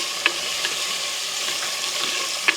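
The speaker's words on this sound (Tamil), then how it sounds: "வெட்டி வச்சிருக்கிற வெங்காயம், பச்சை மிளகாய், கருவேப்பிலையும் போடுவோம். இது நல்லா வடிவாக பிரட்டி விடுவோம்." Sliced onion, green chili and curry leaves stir-fry in a village home pan, a steady broadband sizzle running throughout with a couple of sharp scrape clicks from the stirring spoon, close and fairly loud, with no talking.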